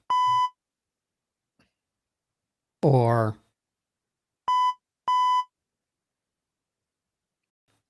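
Three short, clean electronic beeps, one near the start and two in quick succession later, with a brief spoken voice between them.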